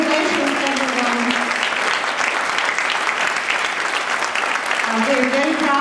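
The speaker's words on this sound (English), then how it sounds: "Let's give another round of applause for our wonderful musicians" Sustained audience applause for concert musicians at a student music recital, a dense wash of clapping from a full hall that holds steady throughout, with a few voices cheering faintly underneath.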